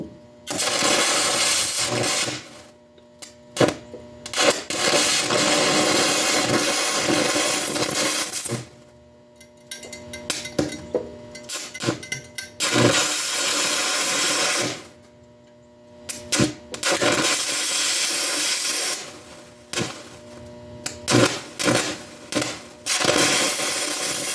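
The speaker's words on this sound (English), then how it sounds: "There's a lot of gouging action going on." Carbon arc electrode gouging metal, loud harsh crackling roars in long bursts of several seconds, separated by short pauses and brief sputtering, close up.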